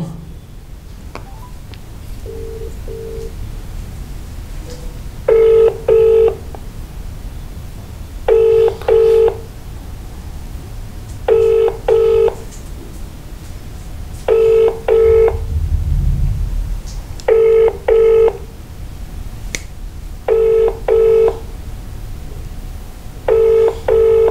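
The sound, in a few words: telephone call ringing unanswered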